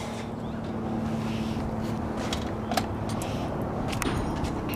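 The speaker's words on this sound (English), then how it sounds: "Now I'm gonna have Chris fire up our Big Daddy turbo diesel" Turbo diesel engine on an 1840 hot water trailer jetter rated 18 GPM at 4,000 PSI: a steady, loud low rumble of the diesel running outdoors, with a few faint clicks and knocks over the continuous drone.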